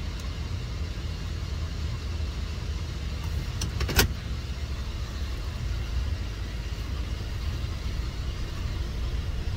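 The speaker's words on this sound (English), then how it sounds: "We're gonna go ahead and take it for a test drive." Interior of a 2012 Chevy Silverado 1500 pickup on a test drive, with a steady low rumble of engine and road noise throughout and one brief sharp click partway through.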